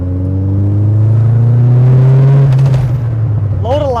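A 1990s car accelerates in third gear, its engine a loud, close drone that rises steadily in pitch for about two and a half seconds before easing off, with voices over it near the end.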